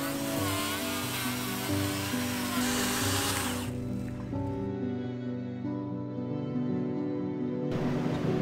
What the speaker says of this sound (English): he brought a chainsaw with him. So he's trimming it so that we'll fit through